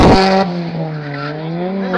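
An Opel Calibra Turbo rally car roars close and loud at a hill climb rally in Lobming-Voitsberg, its engine holding a strained, steady, slightly falling note for about two seconds.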